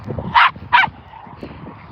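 Two sharp, loud dog barks in close succession during play between two dogs, with a quieter low rumble of activity continuing afterward.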